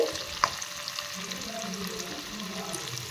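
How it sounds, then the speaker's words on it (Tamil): Black pepper with curry leaves frying in hot oil in a pan while making varagu rice pongal, a steady soft sizzle with faint stirring throughout and no talk. "மிளகு போட்டுக்கிறேன் எல்லாமே நல்லா பொரிஞ்சு வந்தாலும்"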